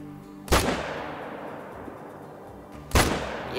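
Two loud M1 rifle gunshots in the Call of the Wild hunting game, spaced about two and a half seconds apart, each a sharp blast trailing into a long echoing decay with no talking.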